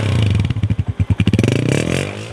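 A 2012 Honda 125 motorcycle engine idles close by with a steady thumping beat that quickens into a faster, smoother run as it revs slightly, loud and alone without voices.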